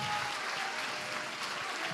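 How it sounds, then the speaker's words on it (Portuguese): A church congregation applauds the Lord, with fairly faint, even clapping sustained over a short stretch. "Você pode aplaudir ao Senhor?"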